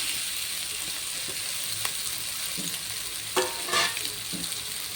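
Chopped tomatoes and potatoes sizzle steadily in a hot frying pan, with a constant bright crackle and a few louder spatters and stirring scrapes, close and without talk.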